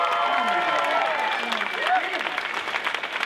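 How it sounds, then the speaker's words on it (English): A comedy-show audience claps and cheers in a sustained, dense wash of applause with whoops and voices mixed in, steady for the full few seconds. "Just give me one more round of applause."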